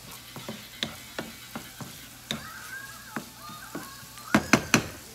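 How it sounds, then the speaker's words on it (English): Onion and garlic sauté in a pan for ginataang hipon, with a soft sizzle under repeated sharp clicks and knocks of a utensil stirring against the pan, ending in several louder taps. "Gisa lang siya."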